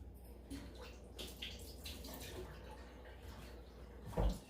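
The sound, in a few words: tablespoon of water poured onto marshmallows in bowl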